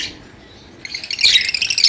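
Lutino lovebirds with yellow bibs, kept as pets, break into bright, rapid chirps and squawks after a brief quiet moment, close and fairly loud.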